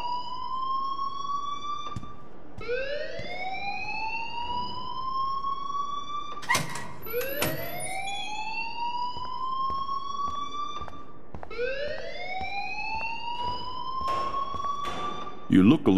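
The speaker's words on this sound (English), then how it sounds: "please turn off that alarm since that's your job" An alarm blares in the video game Life is Strange: loud, rising electronic wails that sweep upward and repeat every few seconds over a steady background, with a few sharp clicks between cycles.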